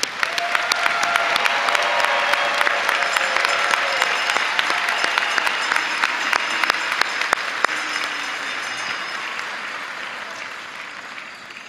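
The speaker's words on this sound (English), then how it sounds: "Let's give a round of applause for all of our graduates." Loud, sustained audience applause for graduates at a Purdue Global graduation ceremony, a dense roar of many hands with sharp individual claps standing out, gradually fading toward the end.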